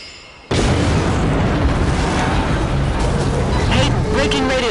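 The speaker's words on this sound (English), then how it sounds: "There's been some sort of explosion." A loud, sudden blast in the video game Shadow Ops: Red Mercury, with a broad roaring rumble that bursts in after a quiet moment and holds strong for several seconds.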